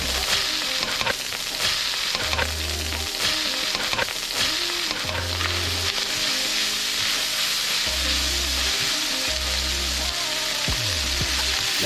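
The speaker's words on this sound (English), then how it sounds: "We pop our egg in the middle. Now we're getting the noodles in there." An egg and noodles frying in a pan for a quick dinner, a constant loud sizzle with scraping stirs and knocks of a utensil against the pan, no talking.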